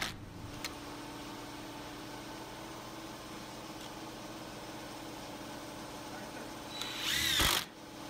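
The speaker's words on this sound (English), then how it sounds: "here I'm putting 1¼ inch cabinet screws with a washer head" A power drill hums steadily as it drives 1¼ inch washer-head cabinet screws into wood, and a brief louder burst near the end marks a screw being driven home, with a voice talking over the work.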